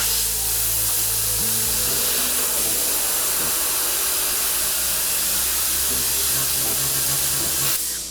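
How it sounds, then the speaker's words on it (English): An air hose blasts water and detailing product out of a foam polishing pad held at an angle, a steady loud hiss of rushing air and spray that runs almost unbroken and cuts off near the end. "Then I take my air hose and I hold this at a 45-degree angle. So I'm spraying the product out"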